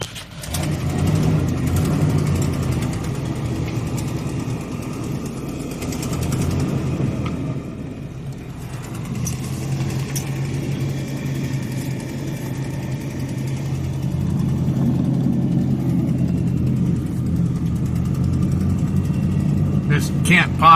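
A Ford vehicle drives around a ranch yard, its engine giving a steady, close, low rumble that holds for the whole stretch and swells slightly near the end.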